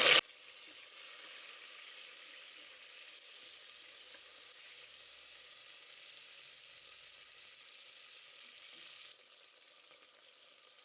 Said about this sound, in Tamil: நல்லா செவக்க வதங்கிருச்சு வெங்காயம். நறுக்கி வச்ச தக்காளி சேர்த்துக்கிறேன்.